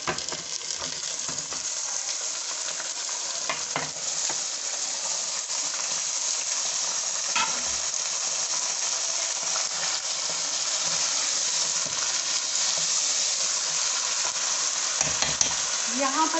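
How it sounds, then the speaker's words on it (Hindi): Chicken pieces frying in hot oil for achari chicken, stirred around the pan with a steady broadband sizzle and occasional utensil scrapes and clinks, close and continuous with no talking. "अब इस जगह पे आके हम इसके अंदर चिकन ऐड कर देंगे"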